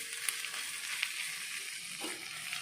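Cumin seeds sizzling in hot oil as a tempering for millet coconut-milk porridge, a steady close crackling fry with a few sharp pops, no talk.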